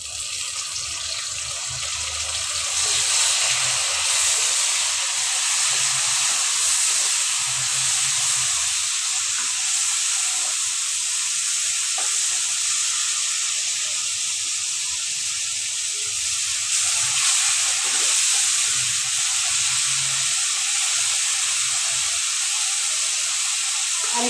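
Onion fries in a pan as garlic paste is added, a continuous loud sizzle and hiss with faint clinks and stirring underneath.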